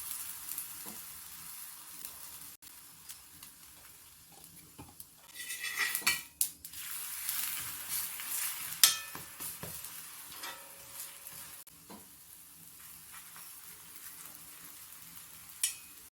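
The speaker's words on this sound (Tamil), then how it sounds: "இப்போ இதில் நம்ம நெய் சேர்த்து சுட்டுக்கலாம்." A kodo millet rotti fries in ghee on a pan with a soft, steady sizzle, punctuated by clinks and scrapes of a utensil against the pan and a few louder knocks, with no voices.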